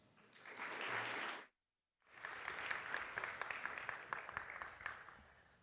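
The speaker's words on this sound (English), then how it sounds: "So please give them a round of applause" A conference audience gathered for a talk on migrating from Python 2 to 3 applauds in a dense wash of clapping, which breaks off for a short silent gap and then resumes steadily with no one speaking.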